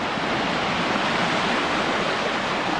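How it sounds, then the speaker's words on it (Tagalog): Strong current rushing at Gabur Gabur waterfall, a loud, dense, unbroken roar of falling and churning water heard up close with no voices. "Ang lakas ng agos oh."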